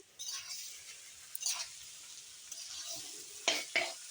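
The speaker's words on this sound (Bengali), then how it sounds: "ফ্রাইড রাইসের মশলাগুলো আর একটু ভাজা হবে" Fried rice spices fry in a pan with carrot, capsicum, beans and peas, a continuous soft sizzle broken by a few louder hissing bursts and stirring scrapes, with no talk.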